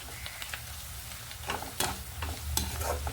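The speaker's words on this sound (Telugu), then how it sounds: "ఉల్లిపాయలతో పాటు వేగుతుందండి" Ginger-garlic paste frying with onions in a pan for a Telugu potato and spinach curry, with a constant close sizzle and intermittent scraping strokes as the mixture is stirred.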